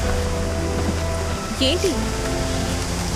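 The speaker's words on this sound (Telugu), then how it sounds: "వర్షం పడుతుంది." Rain falls steadily around a stopped car, an even close hiss of drops on the surface beneath a briefly spoken word.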